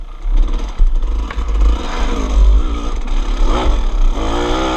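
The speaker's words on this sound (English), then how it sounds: "Listen to that KX lug." Kawasaki KX dirt bike engine lugging low and heavy at a GNCC cross-country race, a deep steady rumble with rising and falling revs, loud and continuous with no voices.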